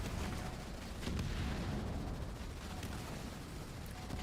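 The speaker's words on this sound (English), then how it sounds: "The Kodiaks are able to shell the base as well. I'm gonna target them on the turrets." Kodiak artillery shelling base turrets in the video game Halo Wars 2, a dense, continuous roar of booming impacts and explosions filling the whole stretch at steady loudness.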